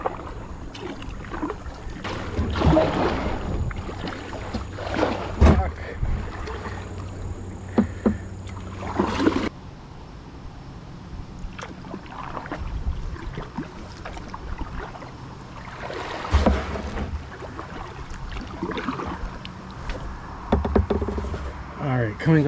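Canoe or kayak paddling on a river, with repeated paddle strokes and water splashes close by, irregular in rhythm, over steady flowing water and low background noise.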